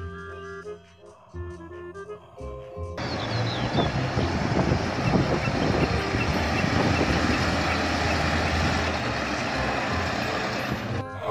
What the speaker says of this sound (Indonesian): Wah, kalau yang ini ada truk